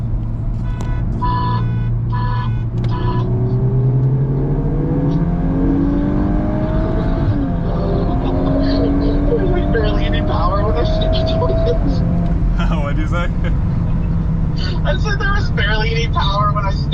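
A Hyundai Elantra N accelerating hard in third gear during a drag-timing run, its engine note climbing steadily and loud throughout, with people talking over it.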